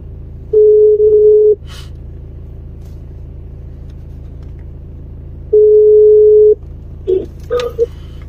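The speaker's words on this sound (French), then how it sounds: "Je vais appeler la maman" Telephone ringback tone while a call is being placed, two one-second steady beeps spaced several seconds apart over a low background hum, followed by brief clicks and faint noises of the line connecting.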